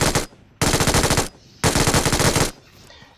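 MG3 machine gun in the mobile battle royale game BGMI firing two long sustained bursts, each about a second long, loud and dense, separated by brief near-silent gaps.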